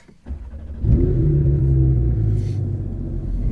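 A twin-turbo Porsche GT3 RS engine cranks briefly and catches, then settles into a loud, deep, steady idle rumble close by.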